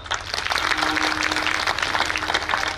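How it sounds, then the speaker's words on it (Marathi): An audience at a devotional Marathi kirtan gathering breaks into sustained, dense applause that holds steady and loud for the whole stretch, with no voices rising above it. "त्यासाठी तुमच्यासाठीच टाळी वाजवा"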